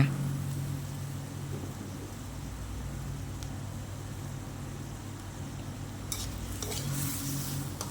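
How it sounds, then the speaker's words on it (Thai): Snail curry with fish sauce being stir-fried in a pan, a soft continuous sizzle with occasional scrapes and light clinks of utensil against metal, fairly quiet and without talk. "ผัดให้เข้ากันค่ะ หอยนะคะจะตัวใหญ่ เราก็ผัดให้นานหน่อยนะคะ"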